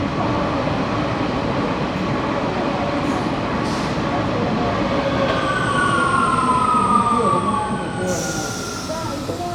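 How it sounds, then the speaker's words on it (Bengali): A Rome Metro C train at Colosseo station gives a loud, steady rumble with a rising whine and a high tone near the end. It is heard up close and continuous throughout. "আমরা আজকে নিয়ে যাব রোমের নতুন একটা মেট্রো চালু হয়েছে, মেট্রো সি কোলোসিওতে"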